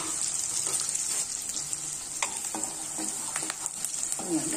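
Curry leaves sizzle and crackle in hot oil for a masala stuffed eggplant curry, a steady close frying hiss with occasional stirring scrapes and pops.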